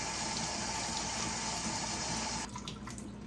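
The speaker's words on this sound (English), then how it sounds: "And as I rinse, the seeds are just falling through." Pepper seeds being rinsed under a running kitchen tap, a steady loud rush of water that drops off and quiets near the end.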